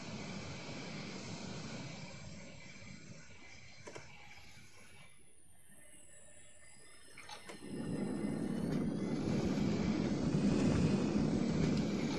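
A jet aircraft in the DCS World flight simulator spools up for takeoff. A steady engine roar dips for a few seconds, then comes back louder and fuller, with a high whine running through it.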